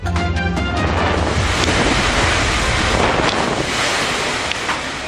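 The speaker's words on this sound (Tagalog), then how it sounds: "Halos wala nang makita sa paligid dahil sa lakas ng hangin at ulan" Strong typhoon wind roars and buffets the microphone across Batanes amid heavy rain, a dense, loud, continuous rush with gusting surges throughout.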